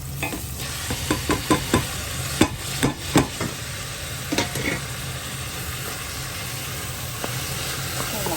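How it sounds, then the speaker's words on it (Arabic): Food fries in oil in a pan with a constant soft sizzle, while a utensil stirs and scrapes it in a series of short knocks, busy at first and sparser later. "رح نحركها وخلاص. نخليها تستوى هيك مهلة."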